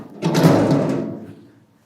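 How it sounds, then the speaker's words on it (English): A band saw's door swings closed with a single close, loud sliding thud that rumbles briefly and fades out within about a second. "and close the door."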